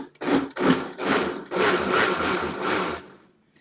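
A blender that is not high powered grinds a cookie mixture in loud, close bursts, with several short pulses followed by a longer continuous run before stopping.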